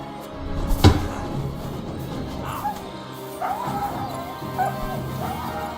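A dog in the medieval world of Kingdom Come Deliverance II gives a sharp close bark, then a series of fainter yips and whimpering whines spread over the following seconds, with other game sounds underneath.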